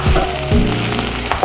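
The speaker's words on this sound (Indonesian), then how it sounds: "Kita tinggal masukin minyak, lalu kita masukin bawang bombay dan juga daun bawangnya" Onion and spring onion fry in hot oil with a loud, close, dense crackle and a couple of scraping stirs over a short burst.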